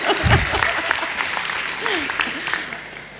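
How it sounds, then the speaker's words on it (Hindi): An audience claps together during a Hindi spiritual talk. A dense burst of applause comes up close and then tapers off over a few seconds, and a voice speaks over the end of it. "आप ताली बजाओ"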